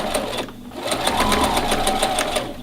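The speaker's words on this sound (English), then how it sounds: "I'm going to stitch in a regular stitch right along this edge" A sewing machine runs a regular straight stitch along the edge of an apron, a steady fast needle rhythm close to the microphone, continuous and without speech.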